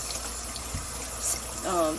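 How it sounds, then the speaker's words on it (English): Cold water runs steadily from a tap over a metal pressure cooker for quick release, with a brief splashy gush and a faint whistling tone near the end. "Just put cold water on it."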